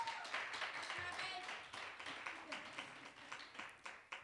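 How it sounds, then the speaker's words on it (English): A small group claps steadily for a few seconds at a church lecture, scattered hand claps fading slightly toward the end. "Another round of applause for him,"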